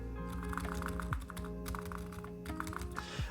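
Typing on an electro-capacitive keyboard fitted with Cherry-profile keycaps gives a quiet, rapid run of soft thocky keystrokes with a few deeper presses mixed in.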